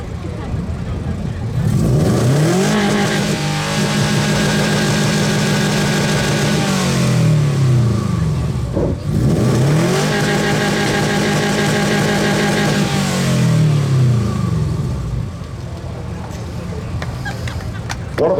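A 2005 Subaru with a boxer engine and aftermarket exhaust at a car show exhaust competition revs repeatedly, its deep burbling note climbing and falling in two long loud pulls close to the listener.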